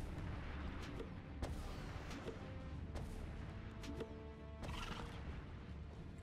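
Explosive eggs from a Tocotoco egg launcher in Palworld burst at irregular intervals. The sharp blasts and thuds pop against a rumbling backdrop, with a horse-like whinny in the mix.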